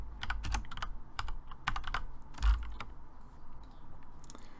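Typing on a Logitech G610 mechanical keyboard with Cherry MX Red switches, a close, quick run of key clacks in uneven bursts with a few heavier bottom-outs, heard alone without talk.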